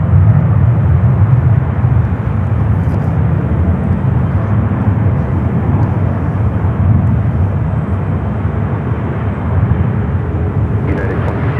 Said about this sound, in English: United Flight 1506 coming in from Denver. It's an A321 Neo.